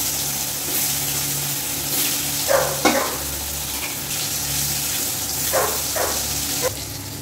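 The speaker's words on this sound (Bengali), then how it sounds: "পটল ভাজা" Pointed gourd (potol) fries in oil in a hot kadai with a steady low hiss, broken by a few brief louder spits and crackles.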